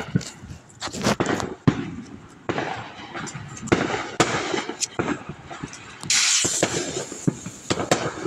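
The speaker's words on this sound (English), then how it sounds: "It was, I think, a smoke grenade that I just threw in there." A smoke grenade firework goes off at close range amid a Fourth of July fireworks celebration, with a run of sharp bangs, crackles and bursts and a rushing hiss near the end, while people talk faintly.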